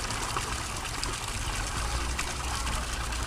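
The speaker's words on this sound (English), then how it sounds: "Sit back, listen to the water." Water trickles steadily outdoors beside a hot tub, a close, continuous broadband rush and babble with no talk over it.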